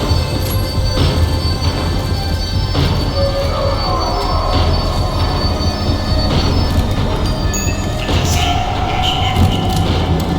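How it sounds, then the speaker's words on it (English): A tram in the video game Max Payne 3 slows down. A dense, steady rumble of rail noise is heard with faint metallic squeals and clanks, and it stays continuous throughout. "The tram was slowing down, and I'd only just gotten on board."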